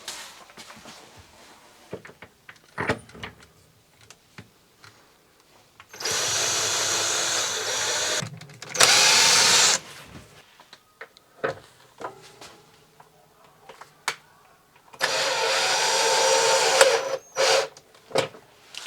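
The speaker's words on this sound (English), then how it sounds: "So we'll screw this into place" A power driver screws an RV refrigerator into its cabinet in short whirring bursts of a few seconds each, separated by quiet stretches with clicks, knocks and handling noises nearby.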